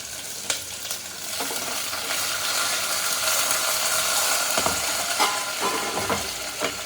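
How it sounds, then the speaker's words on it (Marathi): Chopped vegetables dropped into hot oil tempered with cumin and curry leaves, producing a loud, continuous broadband sizzle and crackle with occasional stirring scrapes, close up and without talk. "थोडंसं जिरं, थोडासा कढीपत्ता आणि त्यानंतर शेवट आपण सगळं कापलेलं टाकते."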